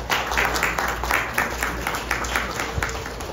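Audience applause at an indoor gathering: a steady, dense patter of many hands clapping at moderate volume, continuous throughout.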